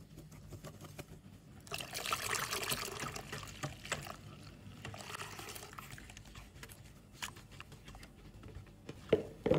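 Coconut milk is poured into banana nagasari batter and stirred, a soft liquid trickle and gentle swishing, quiet and close, rising and fading in irregular strokes.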